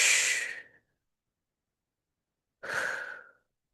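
Two long breaths out through the mouth during slow T'ai Chi Chih movements, each a soft, breathy hiss fading away, separated by about two seconds of silence and heard close and alone.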